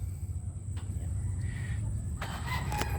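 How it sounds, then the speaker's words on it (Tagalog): A native breed hen gives a few short clucks and calls over steady low background noise, with a brighter burst of clucking near the end. "Yan ang aking ginamit na inahin."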